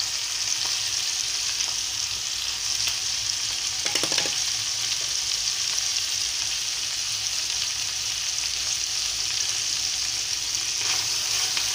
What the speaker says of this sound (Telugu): బాగా కలియ తిప్పి వేయించుకోవాలండి, మాడకుండా చూసుకోవాలి.